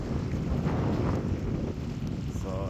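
Strong wind roars and buffets the microphone while fishing at sea from a boat, a dense, continuous rush with no letup across the few seconds.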